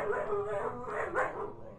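A dog whines and whimpers in a video game, short, high, plaintive sounds, close and fairly soft, over a low background hum.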